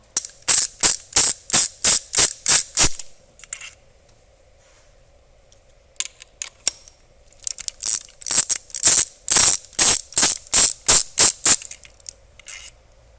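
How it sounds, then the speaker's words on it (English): A ratchet turning a 10mm deep socket on a VW Jetta mk6 1.8 TSI engine gives sharp, rapid clicking bursts up close, with a brief pause between runs. "you'll need a 10mm deep well for the next part here because that thread is so long"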